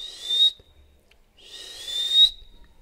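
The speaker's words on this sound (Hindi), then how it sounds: "सीटी बजाओ, सीटी बजाओ, सीटी।" Two sustained high whistle blasts, each about a second long, sound close and fairly loud, separated by a short quiet gap.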